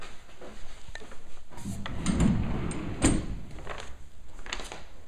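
Sliding pocket doors in a house bedroom roll along their tracks with a few soft wooden rubs and light knocks, close by and moderately quiet, with no talking.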